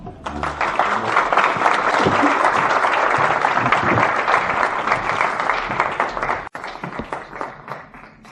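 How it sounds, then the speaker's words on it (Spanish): A lecture audience in Zaragoza breaks into sustained, dense applause lasting several seconds, then it tapers and thins out toward the end, with no talking over it. "Un aplauso, por favor."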